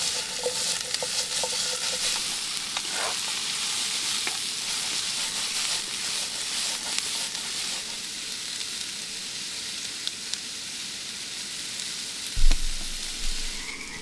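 Sausage and onion frying in a pan over a camp stove at a campsite, a steady close sizzle with occasional stirring scrapes and one sharper clatter near the end, no talking.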